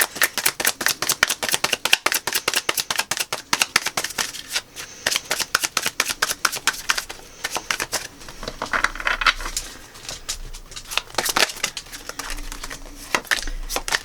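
Tarot cards being shuffled and drawn, a long run of rapid crisp riffling flicks and slaps that carries on nearly the whole time, close and clear, with brief softer pauses between bursts.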